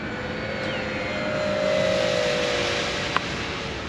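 Steady electric motor and propeller drone of an E-Flite Beechcraft D18 twin-engine RC model airplane cruising at half throttle outdoors, a continuous whine that swells slightly as it passes nearer, then fades a little, with a faint click near the end.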